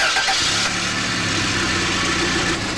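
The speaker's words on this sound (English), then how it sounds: "We'll start the engine and see what the pressure is." A car engine starting and settling into a steady idle during a back-pressure test behind the catalytic converter, heard close and loud, with a continuous mid-pitched hum and no talking.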